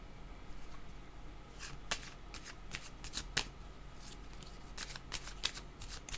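A deck of tarot cards is shuffled nearby, giving repeated soft riffling and sharp flicking snaps in an irregular rhythm over a faint background hiss.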